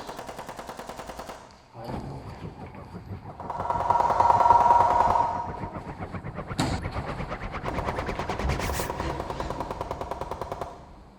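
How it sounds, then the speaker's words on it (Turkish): Rapid bursts of automatic gunfire rattle steadily for several seconds, fairly faint and distant, with rolling echoes and brief louder swells. "Hala silah sesleri geliyor"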